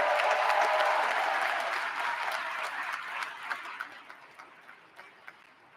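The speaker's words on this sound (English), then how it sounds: "Can I get a hand clap for our graduates" Applause from the audience for graduates at the Governors State University commencement ceremony begins as a dense, loud roar of clapping and gradually thins out into scattered individual claps as it fades.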